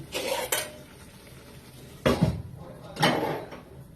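A lid set down over a cooking pan of egg and fig curry with a little water added, three distinct metallic clatters and scrapes separated by quiet pauses.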